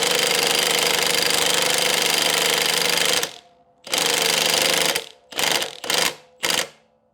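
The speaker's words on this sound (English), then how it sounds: "so we got both of the new bushings pressed into the upper arm" Pneumatic driver rattles in loud sustained bursts, pressing new suspension bushings into the upper control arm of a first-generation Dodge Ram truck; a long run is followed by several short bursts with quiet gaps, no talking.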